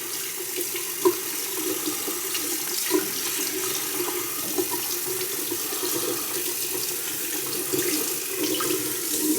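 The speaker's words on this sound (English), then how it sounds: "synthetic brush, rinse it under the water." Tap water runs steadily over a synthetic shaving brush as it is rinsed, a continuous close splashing hiss with no voices.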